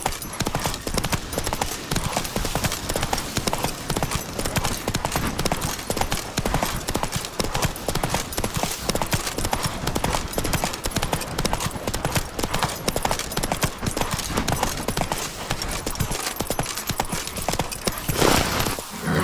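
A horse gallops in The Witcher 3 video game, its hoofbeats a dense, continuous, loud clatter throughout. A brief whinny-like burst near the end.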